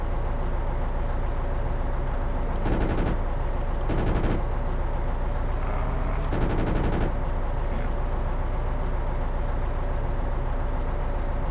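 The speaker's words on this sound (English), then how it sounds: "So I switched to the secondary gun, the Vickers MG in the front of the hull" A hull-mounted Vickers machine gun on a tank fires in a video game, with three short bursts of rapid automatic fire standing out loudly over a steady, dense engine rumble.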